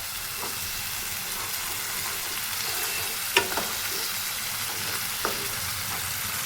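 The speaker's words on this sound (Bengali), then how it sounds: "এখন আমি মশলাটাকে কষিয়ে নেব।" Spice paste of ginger, garlic, chili, tomato and turmeric frying and being stirred in a pan, a steady close sizzle with a few brief scraping clicks, no voices.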